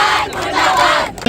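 Crowd at a sit-in protest in Uttar Pradesh under heavy police presence, loudly chanting slogans in unison, close and sustained.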